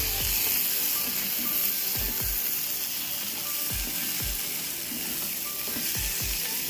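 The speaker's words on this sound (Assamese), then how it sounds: "আৰু এতিয়া আমি আমাৰ বিলাহীখিনিৰ লগত এইটো মিক্স কৰিম।" Scrambled egg is stir-fried with tomatoes in a hot pan, with a constant loud sizzle and repeated soft scraping stirs of a utensil, close up and with no talk.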